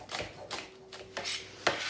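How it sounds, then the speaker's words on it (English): A knife chops onions finely on a board in quick, faint, evenly spaced taps, about six strokes close by with nothing else heard. "you just want to finely chop them"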